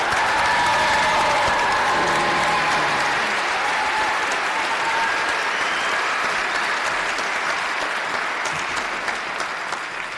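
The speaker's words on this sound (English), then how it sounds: "Please join me in a round of applause for these graduates." An audience at a winter university commencement applauds the new graduates: a broad, continuous wash of clapping from a large crowd, loud at first and easing slightly, with faint cheering mixed in and a few voices underneath.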